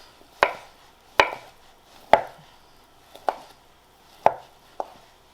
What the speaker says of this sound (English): And now I'm going to be chopping my corned beef.